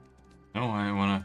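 A horse in the fantasy game Black Desert Online gives one loud, clear, drawn-out neigh at a stable, sounding alone after a brief quiet stretch.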